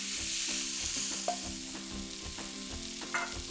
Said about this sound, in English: At this point, I'm going to add the prawns. Today, I'm actually using king prawns, just shelled and deveined.